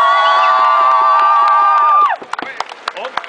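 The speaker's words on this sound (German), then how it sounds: "Applaus für unsere Musikkapelle aus Breding." A sustained tonal chord rings out, then a crowd cheers and claps in scattered sharp bursts for a Tyrolean brass band during an outdoor Cool Water Challenge event.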